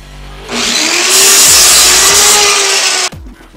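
A small handheld saw cuts through wood, a loud steady buzzing run of about two and a half seconds that starts and stops abruptly, with no talking.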